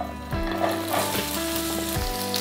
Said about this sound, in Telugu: ఇప్పుడు దాంట్లో ఇలా సన్నగా గుండ్రంగా తరిగిన బెండకాయ వేసి వేయిస్తున్నాను.